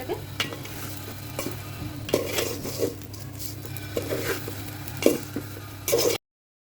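Rice and spices frying in a pan for tehari, with a steady low sizzle broken by scraping stirs and clinks of a utensil against the pan.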